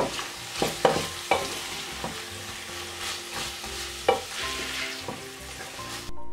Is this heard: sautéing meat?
yes